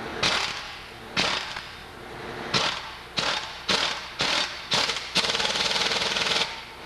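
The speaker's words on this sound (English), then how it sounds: "just tap it with a hammer" A hammer repeatedly tapping a steering knuckle onto a front wheel bearing: about eight sharp metallic strikes in uneven bursts, some single hits and some quick clusters, close and loud with no talking.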